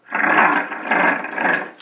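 A voice imitates a tiger at a children's storytime, giving a raspy, breathy roar in two or three swelling surges, loud and close, with no other talk.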